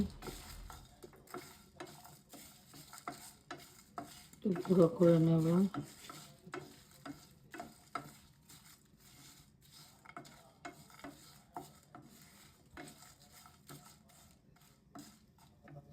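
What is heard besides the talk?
whole spices dry-roasting in a pan for biryani masala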